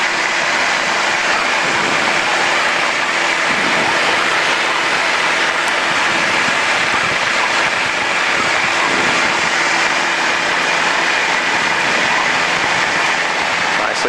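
Piper Cherokee 140 single-engine airplane at full power in a climb over a lake: a loud, steady cabin drone and roar that fills the whole stretch, with people talking underneath.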